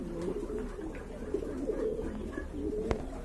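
A pair of pigeons at a pigeon sale cooing close by in low, rolling repeated calls, with a single sharp click near the end.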